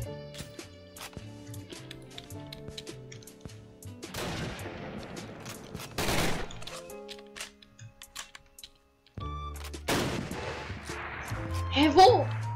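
Bursts of gunfire from the Flans mod in a Minecraft battle, with rapid clustered shots and sharp cracks in several volleys, separated by quieter gaps, amid game noises and short bits of talk.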